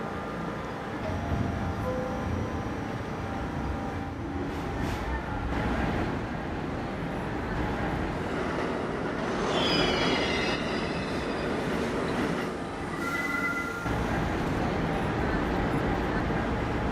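A Manhattan-bound D Express subway train runs with a steady, loud rumble of wheels on rail, brief squeals rising near the middle and end, and no talk over it.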